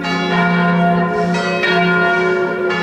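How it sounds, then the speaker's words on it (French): Church carillon bells in central Paris ring out loud and near, several rich overlapping strikes whose tones linger and blend together. "Le carillon."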